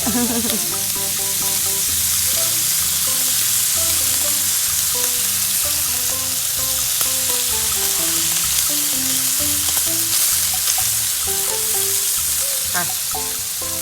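Steady sizzling and frying hiss of pork on a Thai barbecue grill runs throughout, with music playing clearly underneath the whole time.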